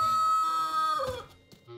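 A chicken in the video game ALTF4 clucks and crows over a game soundtrack for about two seconds, loud and close, with no talking.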